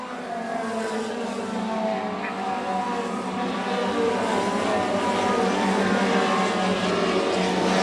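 Race cars circling a track during the Boss Hogg 150, a steady engine roar holding loud and continuous from start to finish with no pauses.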